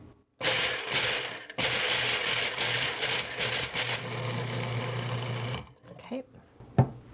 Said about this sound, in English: we're just going to pulse it until it's a fine powder